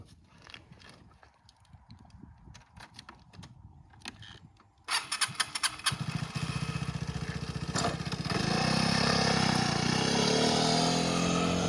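A small motor scooter riding through the Val d'Orcia countryside in Tuscany, its engine starting up midway and then droning steadily and loudly close by as it moves along.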